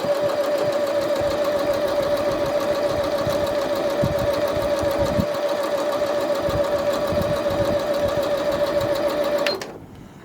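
A Janome 1030MX sewing machine stitches a fabric mug rug at a steady, rapid whirring pace close up, running continuously for about nine seconds and then stopping abruptly.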